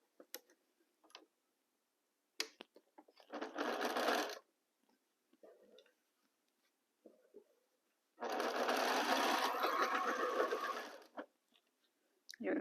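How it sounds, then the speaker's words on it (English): Sewing machine stitching fabric in two bursts, a short run and then a longer steady whirring run, close and clear, separated by quiet pauses with small clicks and handling sounds. "Remove my pin and continue sewing."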